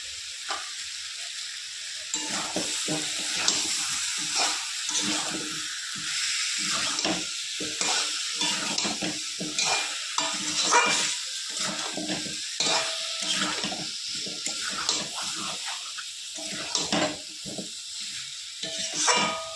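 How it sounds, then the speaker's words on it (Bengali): Masala frying in a pan for a Bengali rohu fish curry, a steady close sizzle with repeated scraping stirs of the spatula throughout, no voices. "সব মশলা দিয়ে ভালো করে কষিয়ে নেব।"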